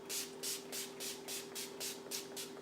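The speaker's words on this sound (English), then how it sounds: "I forgot to use setting spray." Close, rapid bursts of makeup setting spray (Urban Decay Chill) misting rhythmically, about ten quick pumps in a row over a faint steady hum.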